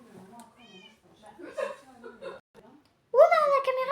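Cat meowing in a video game, a sudden loud mew near the end following quieter chatter and laughing voices that run through most of the clip.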